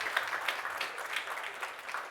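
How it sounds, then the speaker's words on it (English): An audience at a talk on physical and financial stress gives a brief, diffuse round of scattered applause, soft and steady with no single claps standing out, heard from some distance. "Round of applause, please."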